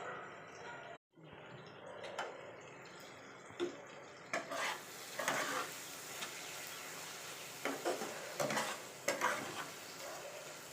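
Mutton mince frying with ground spices in hot oil, a faint continuous sizzle broken by a brief dropout and then intermittent scraping and stirring knocks from a spoon in the pan.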